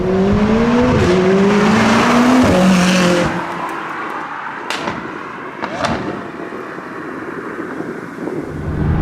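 A McLaren 675LT drives on a sunny English road, its engine tone rising in clear strong revs before easing off to a lower cruising rumble with wind buffeting, close and loud.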